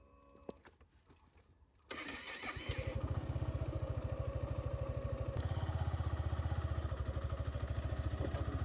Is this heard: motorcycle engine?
yes